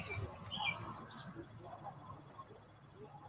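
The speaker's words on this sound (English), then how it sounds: "That's a robin that's making that major noise." A robin sings outdoors in a garden while a sprinkler runs, its bright chirps and short phrases fairly faint and distant, with other birdsong and soft background noise mixed in.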